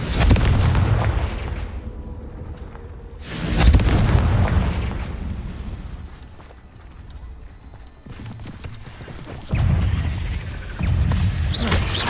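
Spell explosions in the Hogwarts Legacy video game: a series of loud, booming blasts with bursts of crackling debris and a calmer stretch between them.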